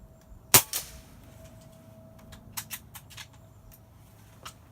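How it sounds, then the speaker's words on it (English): A .22 rifle fires CCI Quiet-22 ammunition, giving one sharp, close crack followed by a quieter echo and several faint clicks and ticks, with no talking. "22 air rifle, here we go."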